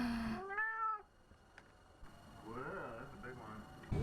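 Two drawn-out meows come from a house cat that brings garbage back inside, faint and close, with some voice-like sound around them.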